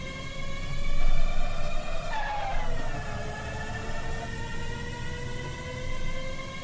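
Race car engine in Virtua Racing, a steady buzzing harmonic drone that swoops down and back up as the car shifts and corners, loud and continuous with no talk.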